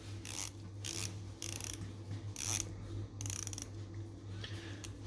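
Rotating the bezel of a Phylida SE-12 GMT diver watch produces a series of short, crisp ratcheting clicks in bursts, close and fairly quiet, over a low steady hum.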